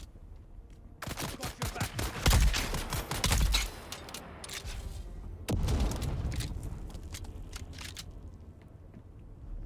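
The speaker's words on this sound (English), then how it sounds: "Throwing grenade." Dense gunfire and explosive bangs from a grenade fill a Dune video game battle, two loud clusters of rapid shots and booms separated by a brief lull, with a voice speaking briefly over the action.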